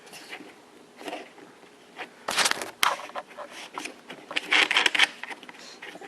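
Plastic clicks and cracks as an Apache 2800 case is pried open, a few sharp snaps amid softer handling rustle, close by.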